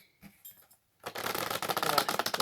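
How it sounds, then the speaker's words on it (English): A deck of cards is shuffled for a tarot-style reading: a few soft handling taps, then a close, rapid riffling crackle that builds and carries on to the end. "Just making sure I give them"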